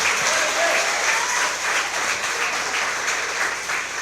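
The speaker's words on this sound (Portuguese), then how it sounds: "Quem pode aplaude" Steady, dense applause from a church congregation during an evening service, filling the hall evenly for a few seconds with no speech over it.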